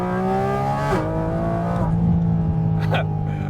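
A Porsche GT4 RS or 997.2 GT3 RS sports car in PDK Sport mode accelerates hard, its engine note climbing through gears with quick shift breaks, loud and close, with a voice exclaiming over it.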